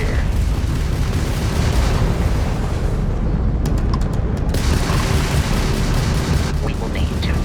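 Crimson Fleet ship weapons firing in Starfield space combat, a steady dense roar of booming blasts and rumbling fire, loud and continuous throughout, with a few brief sharp clicks midway.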